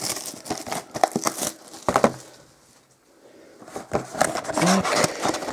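Cardboard box of Panini Select soccer trading card packs being opened by hand, with close crinkling, tearing and rustling bursts separated by a short quiet pause before more handling.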